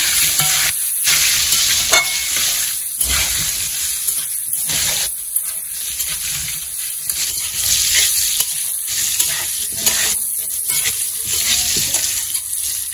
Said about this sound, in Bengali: একটু লবণ দিলাম, হলুদ, আলুগুলো ভালো করে ভেজে নেব।